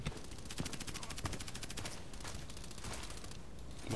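Gunfire in a first-person shooter video game, a steady rapid automatic rattle of shots at a loud, constant level across the clip, with occasional heavier thumps and no talking.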